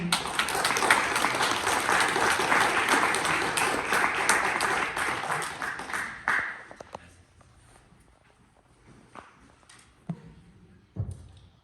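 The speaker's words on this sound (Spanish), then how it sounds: "Un aplauso para Clara." Audience applause at a book presentation ceremony in Arequipa, Peru, honoring a Gold Medal of Culture 2022 recipient: steady, dense clapping for about six seconds that then fades, leaving a few scattered claps and faint room noise.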